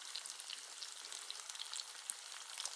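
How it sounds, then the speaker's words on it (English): Ground beef and onion frying together in a pan give a steady, soft sizzle and crackle with no pauses and no voices. "I'm going to go ahead and add the onion."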